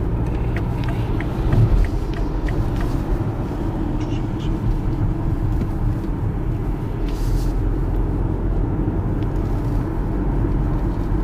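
A 2018 BMW X3 cruises at high speed on an expressway, heard from inside as a steady low road and engine drone with constant tire and wind rumble throughout.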